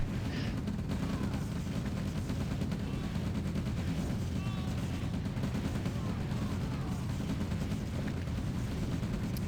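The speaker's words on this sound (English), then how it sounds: "there is the artillery snipe" Artillery fire in a real-time strategy game, a dense continuous low rumble of distant booms and crackling shots that rolls on steadily without a break.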